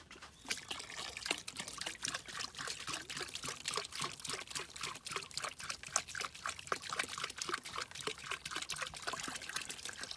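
Water is poured in steadily, a continuous close splashing trickle with faint irregular gurgles throughout and no talking.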